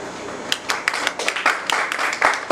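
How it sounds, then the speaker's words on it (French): An audience at a beauty institute graduation ceremony claps in a loose, irregular patter of distinct hand strikes, moderately loud and close, with no speech over it. "je vous demande quand même de l'applaudir"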